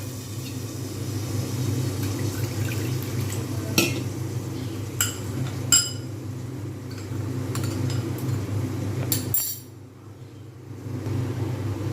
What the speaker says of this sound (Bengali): আস্তে করে মশলাটা আমি ঢেলে দেবো এবং ঢাকা দিয়ে দেবো